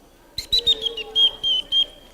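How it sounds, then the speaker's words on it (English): A small whistle blown in a series of short, sharp, high-pitched blasts to call a children's church group to quiet, fairly close and loud, with a faint voice underneath. "Here's my little whistle of quietness."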